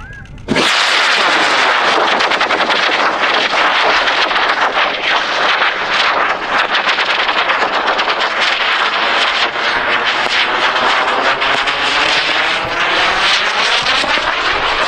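A high-power sport rocket motor roars through its launch burn at a national high-power rocketry event in Alamosa, a loud, steady, broadband rumble that starts abruptly and holds at full strength for the whole stretch.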